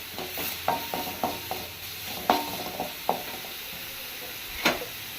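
Onion and ginger garlic paste fry in a pan for a mutton kola urundai mix, soft sizzling under a string of light spoon clacks and scrapes, one sharper knock near the end, close by with no voices.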